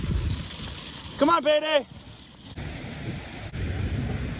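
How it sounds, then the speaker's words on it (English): Heavy rain and hail pour down on a farm during a lightning storm, a steady hissing downpour up close, while a woman briefly calls out to animals over it. "It's hailing and it's lightning and some pretty heavy rain"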